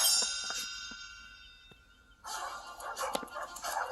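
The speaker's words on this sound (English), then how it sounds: "Suddenly, a pack of fierce dogs chased Lady down an alley." Several dogs barking in a short storybook sound effect, a few sharp barks faintly at first, then a louder cluster of overlapping barks near the end; no voices.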